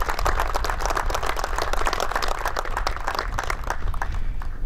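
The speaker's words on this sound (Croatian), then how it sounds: "Pozdravit ćemo ih jednim pljeskom i zaželjeti dobrodošlicom" Applause from a crowd welcoming war veterans of Koprivnica at a tournament event in Posušje: dense, steady clapping that stays loud throughout and thins slightly toward the end.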